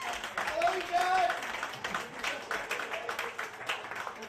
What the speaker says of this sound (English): give it up for your parents